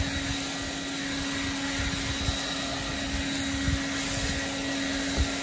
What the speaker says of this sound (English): This is just a quick demonstration of how it works on grass. It does a great job for a battery-operated blower.